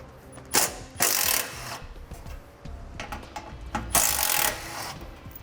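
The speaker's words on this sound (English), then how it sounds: "We'll remove both of these screws." Removing two 8mm heat shield screws from the frame rail of a 2012 Ford Edge with a tool, giving two close, loud bursts of mechanical ratcheting and scraping separated by quieter handling noise.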